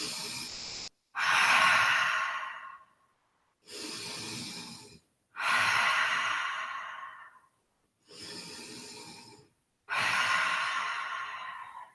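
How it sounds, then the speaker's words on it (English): Slow, deep breaths during a yoga child pose: five long, airy exhalations, each separated by a short pause, close and fairly soft, with no talking. "Take 3 breaths."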